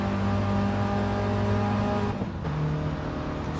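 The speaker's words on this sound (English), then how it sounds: "you can hear the tyres squealing just a little bit, trying to let loose" Race cars in a racing video game at Dragon Trail Gardens, engines droning steadily with a sustained tonal whine that shifts pitch midway, consistent with tyres squealing lightly through a corner.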